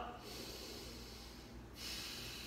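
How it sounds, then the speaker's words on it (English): Slow, steady nasal breathing during a desk posture exercise: a soft, continuous airy hiss through the nose, close and fairly faint, swelling slightly near the end as a new breath is drawn. "nasal breaths, and really kind of breathing down into our belly"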